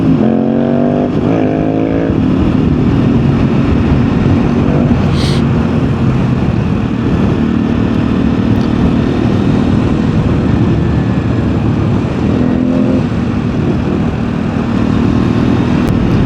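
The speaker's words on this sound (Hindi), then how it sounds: "क्या मस्त एग्जॉस्ट लगाया हुआ है भाई ने अपनी कॉन्टिनेंटल में।" A Royal Enfield Continental motorcycle with an aftermarket exhaust rumbles steadily and loudly throughout, a continuous engine drone heard from a riding position with wind noise and no talk.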